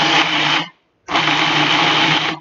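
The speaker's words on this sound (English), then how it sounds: "All right, so let's keep blending this." A kitchen blender whirs through a vegan meatball mixture in two loud, close bursts, a short run, a clean silence of about half a second, then a longer steady run that stops abruptly.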